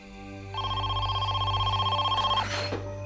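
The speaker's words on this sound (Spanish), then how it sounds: "Estaba a punto de llamar a la policía cuando sonó su teléfono." A telephone rings with a steady, trilling electronic tone for about two seconds over a low background hum before the ring cuts off.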